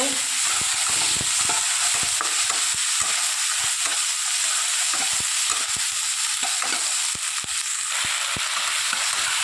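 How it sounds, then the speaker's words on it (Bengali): Onion frying with ginger garlic paste in a pan, a steady loud sizzle throughout with rapid scraping and stirring strokes of a spoon, close up and without talk. "এবার আদা রসুনের পেস্টটা দিয়ে দিলাম, দিয়ে ভালো করে মিক্স করে নেব।"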